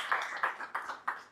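A few people at a San Francisco founder meetup clap for the next speaker, four sharp separate claps in a short burst, close by and fading quickly.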